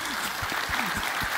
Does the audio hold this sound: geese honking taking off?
no